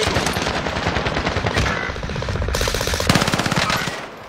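Continuous bursts of rapid automatic gunfire in Call of Duty: Warzone, loud and dense, with rattling shots overlapping throughout.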